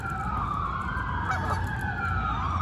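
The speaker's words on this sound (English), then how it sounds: "There go the geese." Geese honk repeatedly outdoors, several overlapping calls that stand out against a wailing police siren passing along a road.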